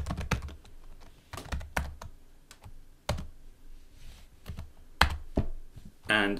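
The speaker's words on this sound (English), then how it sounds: "I'm going to type my password in." Password typed on a computer keyboard during SQL Server login setup: a quick, close run of irregular key clicks and taps with short pauses, ending in a brief louder rustle.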